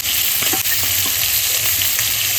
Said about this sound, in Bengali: শোল মাছ ভাজা হয়ে গেছে এবার আমি নামাই নেব